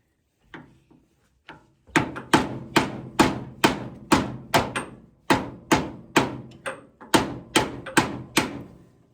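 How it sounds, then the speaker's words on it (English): Sharp hammer blows drive a bearing in, starting with a few light taps and then settling into a loud, regular rhythm of about a dozen strikes. "I can use the hammer to put it all the way in."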